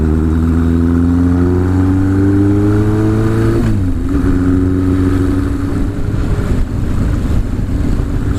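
Motorcycle engine heard up close from the rider's seat on city streets, a steady drone that rises in pitch through the gears, then drops and settles into a rougher, rumbling note.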